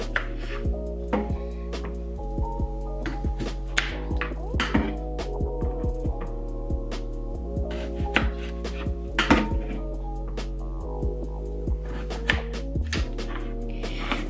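A knife chops mini red potatoes in half on a cutting board, giving sharp, irregular knocks, some quick and some spaced apart, close and clear over a low steady hum.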